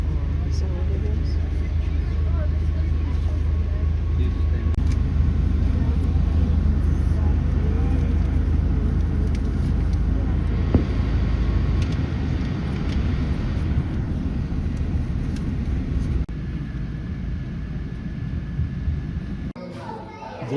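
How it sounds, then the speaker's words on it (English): An old Russian helicopter flying overhead near a Danube river cruise stop, a constant loud low engine and rotor roar that holds steady for about twenty seconds before easing slightly at the end. "there's the old Russian helicopter that's making all that noise"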